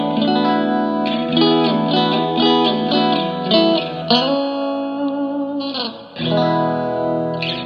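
Electric guitar chords ring out through a Fender Blues Junior IV amp with lush reverb, notes sustaining and blooming into a spacious wash, played alone.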